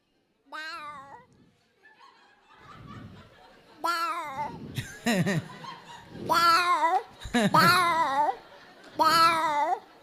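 A human voice mimics two cats squabbling, with rising, wailing meows and yowls in short bursts, close and loud, broken by brief pauses.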